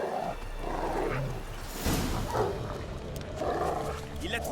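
A dog in The Witcher 3 gives short barks and sniffs amid game ambience, with other sounds and a voice overlapping throughout.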